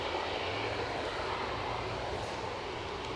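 Embraer 170 jet airliner at Edinburgh airport, a steady broadband engine roar held loud and constant throughout, with no voices.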